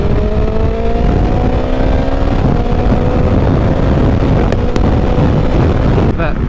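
A 2021 BMW S1000XR motorcycle engine revs steadily with rising harmonic whine, induction noise building, loud and close with heavy wind buffeting throughout and a couple of brief clicks near the end.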